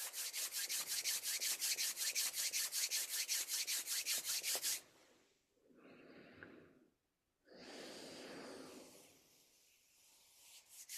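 Soft rhythmic rubbing of eyes runs steadily for about five seconds, followed by quieter breathy rustling and a short, faint scrubbing stretch, all close and gentle.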